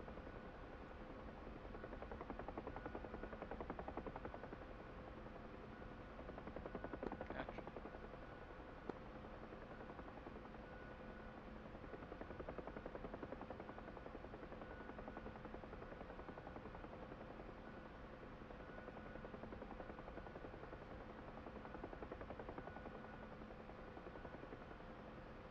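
A UH-1 Huey helicopter in the DCS flight simulator holding a hover, a steady, muffled rotor and engine drone that swells slightly now and then, quiet and continuous, no voices.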